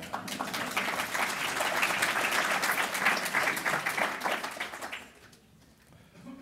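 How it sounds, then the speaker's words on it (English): An evening lecture crowd applauds, with thick, sustained clapping that fades out near the end, leaving a quiet room. "Give yourselves a round of applause for"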